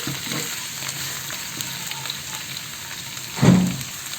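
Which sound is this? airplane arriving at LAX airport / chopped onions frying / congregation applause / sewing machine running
chopped onions frying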